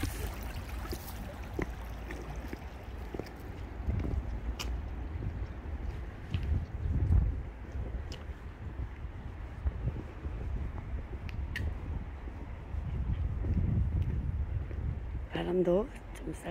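Chilly wind blows outdoors near water, a low rumbling buffet across the microphone that swells and eases throughout, with a faint bird call near the end.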